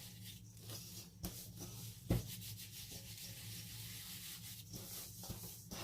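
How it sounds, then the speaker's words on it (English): Hands rub through a dry, powdery bath bomb mixture, producing a soft, steady gritty scratching with a few sharper brushing accents, quiet and close. "Just rubbing it through my hands to make sure we get all the color incorporated."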